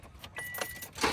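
Car keys jangling in short metallic bursts, close and clear, with a louder shake at the end, against quiet surroundings.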